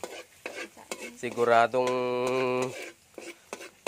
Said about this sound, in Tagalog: Igigisa na yung bawang, mga kamaster.